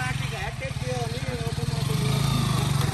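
Royal Enfield Bullet motorcycle engine thumping steadily at close range, its low rhythmic exhaust beat running throughout while someone talks over it.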